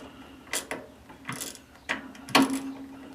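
A ratchet wrench clicks in short bursts on a hard-to-reach fastener under the deck of a Huskee LT4200 riding mower. The clicks are close and come in quick irregular runs with pauses, and nobody speaks.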